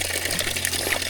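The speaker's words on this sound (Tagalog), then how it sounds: "Malakas yung tubig." Water runs hard from an outdoor faucet at a campsite in Famy, Laguna, a strong, steady rushing gush heard up close for the whole stretch with no talking.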